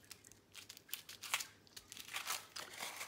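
A cellophane bag is pressed down onto the back of a handmade card, giving soft, close crinkles and crackles in short irregular bursts, quiet and without speech.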